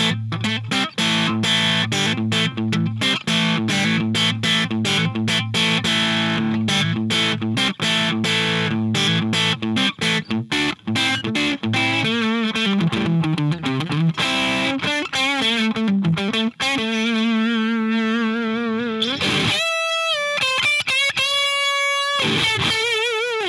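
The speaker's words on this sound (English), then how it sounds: "Middle position, you can get some really cool, kind of thick, creamy lead tones out of it." A distorted PRS Myles Kennedy signature electric guitar on the middle pickup position plays a thick, creamy lead line, sustained notes and bends ringing out loud and alone, with a few brief gaps near the end.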